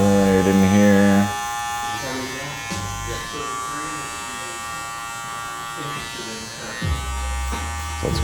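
Electric hair clipper buzzing steadily close up while trimming a man's hair and beard, the motor hum running throughout with brief pitch shifts as it moves, under someone talking.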